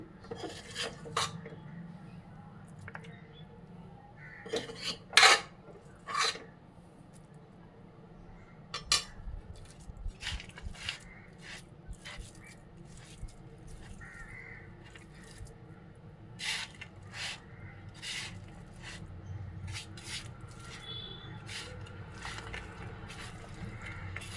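Ragi flour, grated coconut and boiled chana dal are mixed and kneaded by hand in a bowl, giving soft close-up rubbing and scraping with occasional sharper clinks against the bowl, steady and quiet with no talk.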